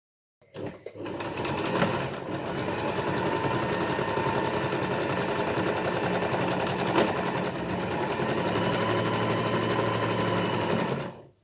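A Janome sewing machine stitches a buttonhole in one long run of rapid, steady mechanical whirring and needle chatter, loud and close. It starts and stops abruptly, and no one speaks.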